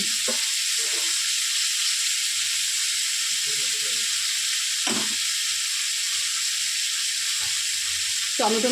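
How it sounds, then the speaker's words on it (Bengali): Tomatoes stirred into hot oil in a pan for a catla fish, papaya and potato curry, giving a loud steady sizzle with a few brief scraping strokes, no voices. "ভালো করে টমেটো দিয়ে নেড়ে নিচ্ছি।"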